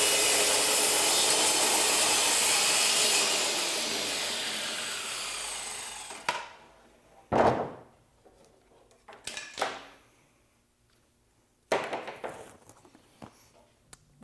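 A TrueTrac track saw cuts through a large glued-up cedar panel for a picnic tabletop with a loud, steady roar that winds down, followed by several separate thumps and knocks as the work is handled.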